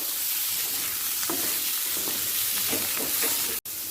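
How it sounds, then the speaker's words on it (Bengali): Cashews, peanuts and cauliflower fry together in a pan, giving a constant close hiss of oil with soft stirring scrapes and clicks, cut by a brief silent break near the end. "আমি কাজু আর চিনে বাদামটা দিয়ে দিচ্ছি একই সাথে ভাজা হয়ে যাবে"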